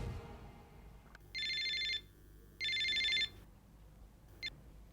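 Telephone ringing indoors: two electronic ring bursts of about a second each with a pause between, then a short final chirp, loud and clear over a quiet room.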